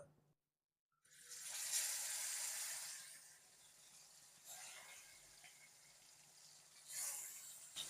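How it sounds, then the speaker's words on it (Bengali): Koi fish fry in hot mustard oil, a quiet bubbling sizzle with crackling bursts after a brief silent moment, swelling and fading in waves as the pieces settle into the pan. "এবারে মাছগুলো ভেজে নেবো"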